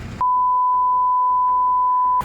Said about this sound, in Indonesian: Tuh telepon lagi nih